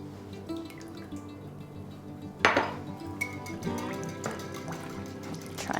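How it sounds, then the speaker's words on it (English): Eggs beaten into four cups of milk in a pan for corn pudding, light clinks and taps of a utensil against the pan with soft liquid sloshing, close and fairly quiet with one sharper knock. "the next thing we're gonna do is beat the eggs into this 4 cups of milk"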